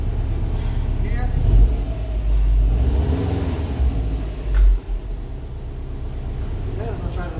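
A 2016 Subaru WRX STI engine runs while the car drives off, giving a continuous low rumble that swells briefly mid-way and stays fairly loud and close.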